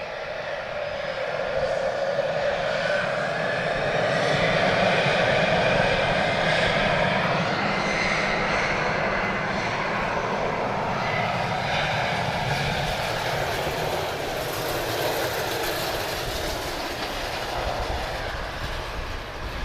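A steady, loud aircraft engine roar at Lisbon Airport, a broad continuous rumble and whine holding even throughout as a plane moves nearby.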